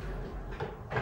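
A kitchen drawer in a studio apartment, used for storing pots and a pan, slides open or shut. Two short, soft scraping bumps sound up close over a quiet room.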